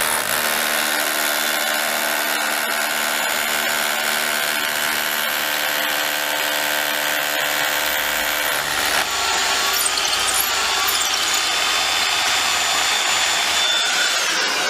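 A DeWALT DCH274 SDS hammer drill bores steadily alongside the whir of a HEPA dust extractor, a loud continuous mechanical drone; the tone shifts partway through as the drilling load changes, with no talking.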